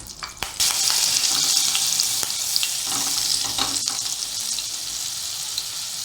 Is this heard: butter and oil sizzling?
yes